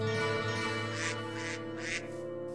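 Ducks in the Minecraft video game quack in a few short bursts over a steady layer of background game music, with no talking.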